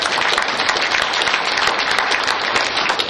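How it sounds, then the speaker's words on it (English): Campus audience claps in a brief, steady burst of applause, a dense patter of many hands heard alone and at moderate distance. "really, a round of applause"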